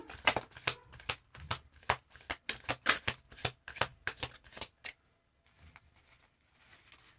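Tarot cards are shuffled and laid out in a rapid run of crisp riffling and flicking snaps for about five seconds, close and clear, then giving way to faint soft rustling.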